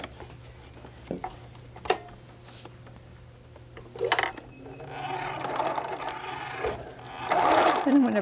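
A sewing machine back stitches a pouch seam, starting with scattered clicks and taps, then running in short bursts of quick mechanical whirring that grow louder toward the end, close by in a quiet room.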